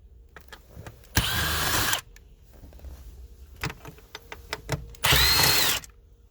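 Power screwdriver fitted with a T25 Torx bit removing center console screws on a 2013-2016 BMW F30 3 Series, two loud whirring bursts of about a second each separated by small clicks and handling noises, no talk.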